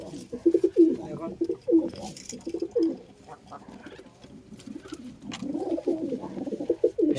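Pigeons coo in soft, repeated throaty rolls, fairly close, with a brief stretch of quieter murmuring and faint background noise.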